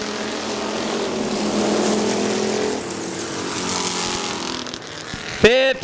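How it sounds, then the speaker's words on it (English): Race cars roaring around Hartford Speedway Park during a factory stock event, a broad continuous engine drone with a loud car passing near the end, under a crowd's cheering and yelling. "Look out for the race cars!"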